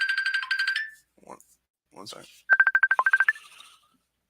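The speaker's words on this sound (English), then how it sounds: "My phone just rang." A phone ringtone plays a bright, melodic electronic tone close by. A short voice cuts in, and then a second burst of rapid pulsed ringing notes sounds before it stops.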